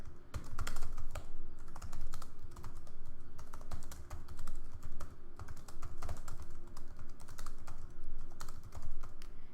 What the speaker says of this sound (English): If I click, I'll type something in here.